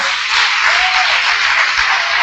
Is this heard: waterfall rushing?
no